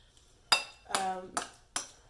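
A spoon chopping and scraping beans and mozzarella cheese in a pot, making four sharp metallic clinks and clanks in an uneven rhythm, close and distinct, with no talking.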